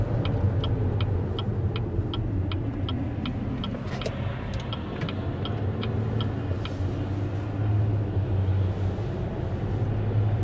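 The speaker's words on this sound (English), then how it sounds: "I'm going to let this car pass us." A car passes along a rural road, its steady low rumble swelling and easing over several seconds against a continuous background, with a series of regular faint ticking clicks for the first few seconds.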